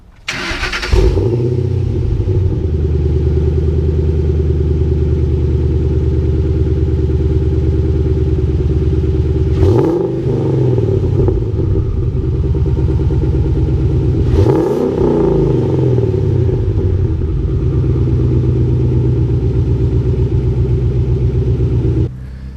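A 2005-2009 Ford Mustang GT V8 with an aftermarket exhaust rumbles with a deep, loud idle, blipped into sharp revs twice with rising and falling pitch, the throaty exhaust dominating throughout.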